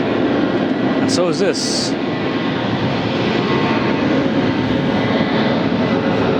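A 29-year-old CRJ jet airliner at Phoenix Sky Harbor airport gives a loud, steady engine roar throughout, close and constant, with a brief spoken remark near the start.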